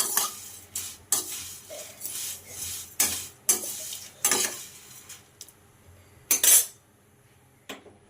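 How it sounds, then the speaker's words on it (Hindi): Vermicelli dry-roasting in a pan in a village kitchen, a utensil stirring and scraping against the metal in repeated bursts with quiet gaps between, close and clear, no talking. "तो इन जवों को पहले भून रही हूँ मैं"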